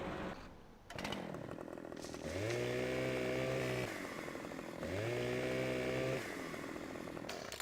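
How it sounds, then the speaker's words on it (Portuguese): Chainsaw cutting into a tree, its engine revving up loudly twice into long sustained high-pitched cutting runs, dropping back to a rough idle between them, close by with no talk. "Mas vamos tá cortando essa árvore aqui."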